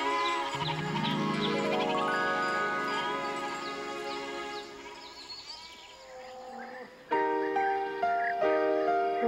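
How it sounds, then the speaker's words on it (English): A goat bleating in an animated mountain meadow scene, several wavering bleats layered with background music, fairly close and clear. "What's that? It's one of the goats."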